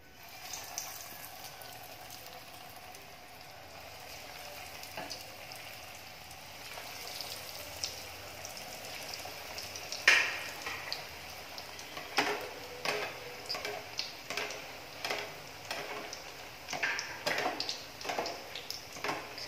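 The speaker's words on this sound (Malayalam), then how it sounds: "അതിനുശേഷം നമ്മുടെ കട്ട്ലറ്റ് ഓരോന്നായിട്ട് ഇതിലോട്ടേക്ക് ഇട്ട് കൊടുക്കാം" Beef cutlets fry in hot oil in a pan with a soft, continuous bubbling hiss, then a sharp pop and a run of rhythmic spattering crackles that grow busier toward the end, close and fairly quiet.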